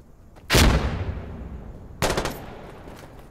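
A frag grenade explodes in the Insurgency Sandstorm video game: a loud, close burst with a long rumbling decay, then a second sharp blast about one and a half seconds later. No voices.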